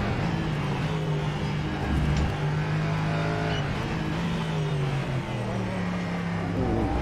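Ligier JS P320 LMP3 race car engine in the rFactor 2 racing game, a steady loud drone with gear changes and pitch drops as it brakes hard for a corner, the engine note continuous throughout.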